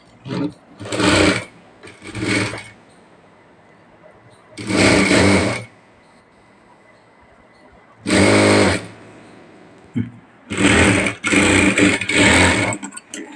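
A sewing machine stitches a blouse border in five loud, close bursts of rapid whirring, each lasting about a second, separated by quiet pauses with faint handling of the fabric.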